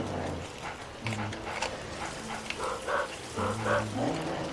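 A dog in a ghost-themed video game makes short yelps and whimpering barks amid background game sounds, with moderate level throughout.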